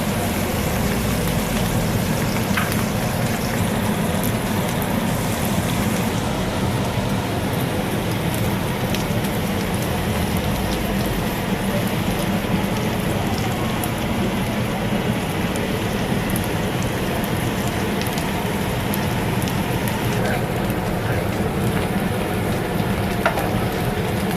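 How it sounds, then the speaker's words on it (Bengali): Garlic and dried lotte fish fry in a pan for a Bangladeshi shutki bhuna, giving a loud, continuous sizzle and crackle that runs steadily throughout with no talking. "রসুনগুলোকে দিয়ে ভালোভাবে একটু ভেজে নিব।"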